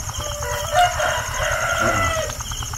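A rooster crows once, a short, fairly faint call over low background noise outdoors.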